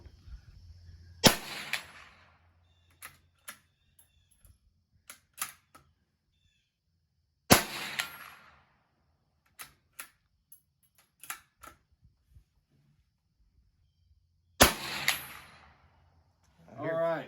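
Three sharp shots from a Savage Model 93 .22WMR rifle ring out about six seconds apart, each followed moments later by the faint smack of the bullet hitting a steel target at 100 yards, with scattered clicks and handling noise between.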